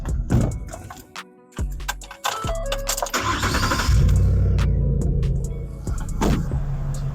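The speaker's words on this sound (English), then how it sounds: "you want to go ahead and start up the vehicle just to ensure that everything you did" A 2011-2014 Ford F-150 engine cranks and catches after a serpentine belt change, settling into a steady, close rumbling idle with no talking.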